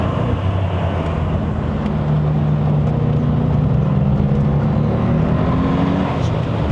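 A 2012 Audi S8 with a 4.0 TFSI bi-turbo V8 and electronic exhaust accelerating uphill on a mountain road in Malaysia, a loud, continuous engine drone heard from inside the cabin with pitch rising steadily under road and wind noise.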